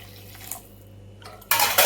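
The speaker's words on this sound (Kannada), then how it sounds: "ಸ್ವಲ್ಪ ನೀರು ಹಾಕುವ" Water poured into a pan of spiced egg gravy on a home kitchen stove, a short splashing pour that starts and swells toward the end over a low background hum, close by, no talking.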